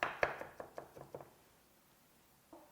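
A knife mincing green onion and garlic on a cutting board gives a quick run of sharp, close knocks that taper off, then a pause and one last chop.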